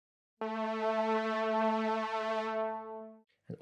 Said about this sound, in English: And a long synth note.